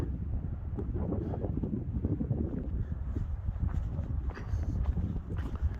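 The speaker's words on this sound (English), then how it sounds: "this is just the beginning of it to tell you that the wind is moving" Strong wind buffeting the microphone on a trail in Arizona, a continuous loud roaring rumble with gusty swells and no break throughout.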